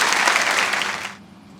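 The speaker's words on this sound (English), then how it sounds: "please welcome with a very warm applause Dr. Montek Singh Ahluwalia." A lecture audience welcomes the speaker with loud, dense applause that holds steady for about a second and then stops abruptly.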